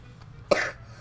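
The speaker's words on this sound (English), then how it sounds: "this cough will not go away" A single short cough breaks out close to the microphone against a quiet background.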